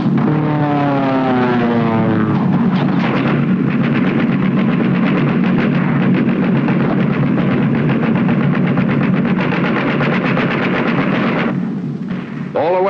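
B-17 Flying Fortress bombers in tight, high formation make a World War II bombing run over railroad yards: a loud, continuous engine drone with heavy rumbling bursts running through it.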